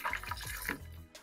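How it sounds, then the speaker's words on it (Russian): Clean water poured into a container for rinsing sprayer nozzles, a faint, close, gurgling splash with a few drips. "в эту тару залить чистую воду"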